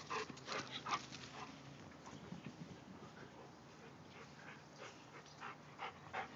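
An Australian Shepherd, a Labrador and a Weimaraner in a front yard, with faint, rapid dog panting and soft whimpers that continue steadily throughout, recorded from some distance.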